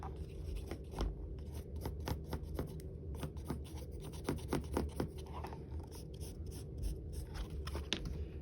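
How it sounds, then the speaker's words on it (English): Pinking shears snip around a roughly 4-inch fabric circle for a sewn ornament, giving a steady run of quiet, crisp cutting crunches in an otherwise still room. "And then cut it out. And I like to use my pinking shears because I like this."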